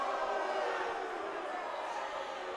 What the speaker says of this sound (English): We're getting some boos from the crowd.